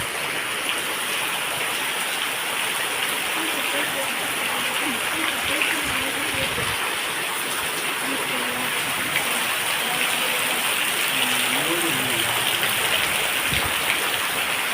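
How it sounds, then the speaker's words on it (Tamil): Heavy rain pouring steadily in Arakkonam, a dense continuous hiss near and loud, with faint voices murmuring underneath at times. "சரியான மழை அரக்கோணத்தில் மழை"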